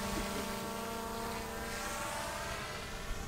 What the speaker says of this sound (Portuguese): Toda vez que alguém voa drone perto de mim